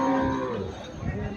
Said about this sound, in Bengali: এখানে একটা গাভী দেখা যাচ্ছে হলিস্টিন ফ্রিজিয়ান জাতের গাভী